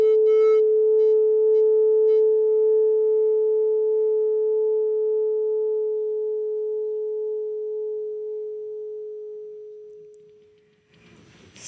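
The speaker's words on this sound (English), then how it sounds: "when I stop heating, you will hear the thermoacoustic instability" Thermoacoustic instability in a tube with a heated wire grid, a loud pure humming tone with faint overtones that slowly fades over about ten seconds, with no talk.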